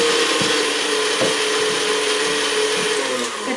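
An electric stand mixer whipping no-bake cake ingredients runs as a loud, steady whir with a rattling, grinding texture and small knocks throughout, with no talk over it.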